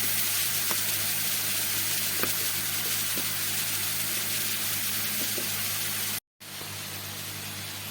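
Banana stem and shrimp fry gently over medium heat in a pan, giving a steady, even sizzle throughout with faint scattered pops, broken by a brief silent gap near the end.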